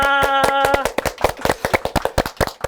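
Audience at a meet-the-authors event for teachers clapping in welcome, a burst of sharp, loud claps from a modest group after a voice, the claps then thinning into scattered beats.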